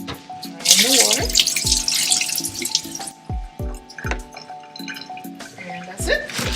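Water runs from a kitchen tap into a sink while oxtail is rinsed and drained, with close splashing, clunks and drips in uneven bursts.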